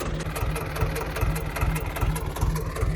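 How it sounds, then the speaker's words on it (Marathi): A hot tractor engine idles during ploughing with a steady low rumble and even, regular pulsing throb, loud and close with no other sounds over it. "ट्रॅक्टर बंद इथून करायचं, वरून घ्यायचं. एकदम गरम गरम वाफा येते, त्याच्यामुळं हे बंद तर नाही करणार मी इंजिन."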